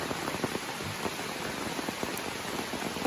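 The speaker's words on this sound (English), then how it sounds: "The weather report said it was going to rain as a result of the tropical storm. And it is coming down pretty good." Heavy rain from a tropical storm pours steadily on an Appalachian Trail campsite in Pennsylvania, a dense continuous hiss with scattered close drops pattering on a surface throughout, no voices.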